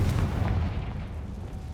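A Confringo fire-blast spell in Hogwarts Legacy lands as a single heavy low boom that rumbles and fades over about a second and a half.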